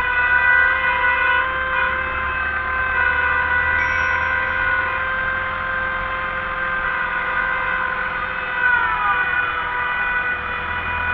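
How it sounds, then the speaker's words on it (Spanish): A Rastrojero vehicle's siren wails loudly and continuously, its steady tones holding at a close, even level without speech over it. "hacemos un poco de ruido también, con la sirena."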